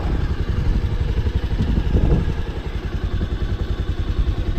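A heavy motorcycle engine chugs with a close, rapid, throbbing pulse as it descends a steep road on Mount Santo Tomas, a stratovolcano near Baguio, with a brief louder surge midway.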